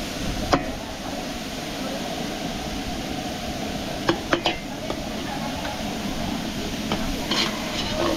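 Food sautéing in a pan for a birthday meal cooked in Porac, Pampanga, a constant loud sizzle with a few sharp clanks of a utensil against the pan.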